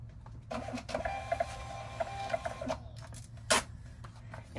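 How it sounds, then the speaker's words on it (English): A Rollo label printer runs through a print job, a soft mechanical whir with rhythmic clicks lasting a couple of seconds, then a brief clack, heard close and fairly quiet. "And I use a Rollo printer,"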